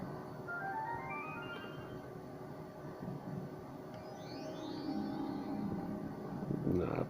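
A Luck of the Irish fruit machine spins its reels, sounding a bright electronic jingle of stepped rising tones over a steady hum of arcade machines.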